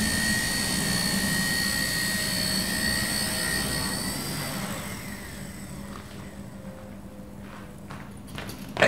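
A steady buzzing whine of a small drone's motors hovers for several seconds, then winds down and fades as it settles, ending with a brief bump.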